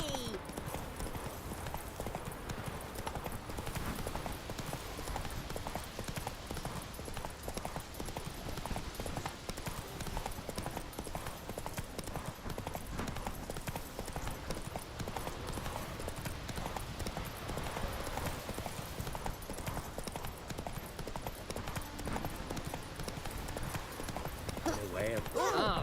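Roach the horse galloping in Witcher 3, steady rapid hoofbeats running throughout under busy game sound and occasional voices.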